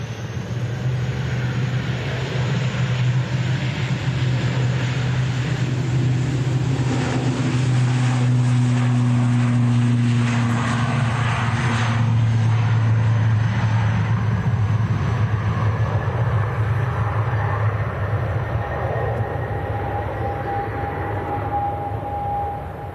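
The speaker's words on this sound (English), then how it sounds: "We'll pick up this departing ATR of Aer Lingus as he comes past." Aer Lingus ATR turboprop departing at Manchester Airport, a steady loud engine drone with tonal hum that holds throughout and fades slightly toward the end, no voices.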